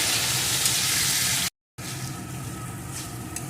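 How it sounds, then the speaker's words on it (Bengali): Steady sizzling of spices, sugar and slit green chillies being sautéed in hot oil for a vegetarian green banana kofta curry, continuous and close, briefly cut by a split-second gap. "এখন সমস্ত কিছু ভালো করে কষিয়ে নেবো"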